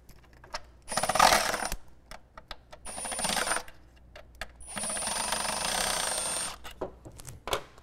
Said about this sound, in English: Oh, dropped the socket.